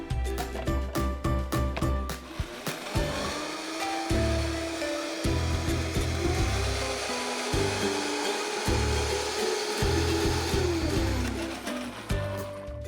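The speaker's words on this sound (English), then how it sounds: "let's just blend this up and we'll be ready to go" A blender motor whirs loudly and close, blending a peanut butter sauce, pulsing and shifting pitch as the contents churn, then running in a sustained roar.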